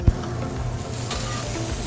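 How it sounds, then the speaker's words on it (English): Steady, close hiss and crackle of a rare Angus burger sizzling on a hot sizzle platter, with a soft thump at the very start. "On the sizzle platter it goes."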